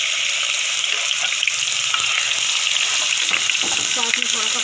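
Onions and garlic sizzle in hot ghee in a pan, a loud, dense crackling fry heard close up and alone, with a few stirring scrapes and clinks toward the end.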